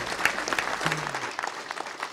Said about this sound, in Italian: facciamo un applauso a Luciano D'Amico